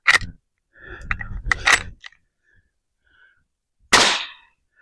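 A Winchester 1906 rifle fires after final assembly, with sharp close metallic cracks and mechanical clicks, then a quiet gap before another loud report near the end.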